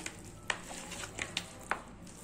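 Quail pieces kneaded by hand with ginger-garlic paste, masala and lemon juice, soft wet squelches and a few sharp clicks, quiet and close, with no one talking.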